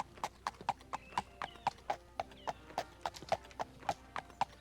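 A horse gallops in Daggerfall Unity, its hooves landing in crisp, evenly spaced clops about twice per second, close and clear over a faint background hum.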